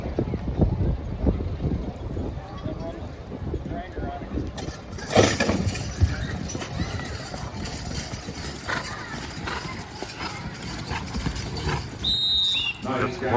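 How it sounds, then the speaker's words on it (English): Heavyweight draft horses pull at a county fair contest in Angelica, New York. Their hooves clop steadily on the ground under an announcer's voice and the murmur of the crowd in the stands. "Got some horse pulling here today."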